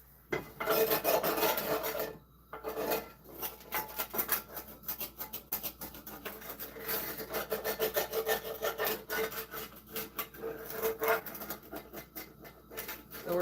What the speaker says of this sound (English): So we're scraping all the little bits that stuck to the shitty ass pan